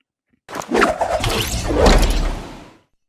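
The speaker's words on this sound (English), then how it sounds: "That is the sound of a glider opening on Fortnite." A broad whooshing burst with a fabric-like flutter and a low thump as a glider opens in Fortnite, swelling then fading over about two seconds, loud and close with no voices.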